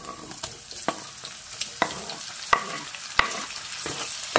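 Tomato and chili dropped into a hot pan with fish cooking, sizzling under repeated stirring, with sharp scraping clicks and clatter of the spoon against the pan at irregular intervals, close and alone.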